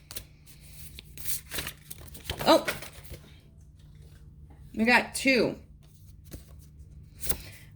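A large, oversized oracle card deck is shuffled by hand in short riffling bursts, with quiet pauses between them and a voice speaking briefly in between.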